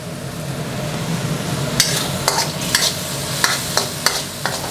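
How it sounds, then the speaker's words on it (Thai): Preserved eggs being stir-fried with oyster sauce, fish sauce and dark soy in a wok, a steady sizzle broken by repeated metallic scrapes and taps of the spatula against the pan. "แล้วก็ผัดคลุกเคล้าให้ทุกอย่างเข้ากันนะครับ"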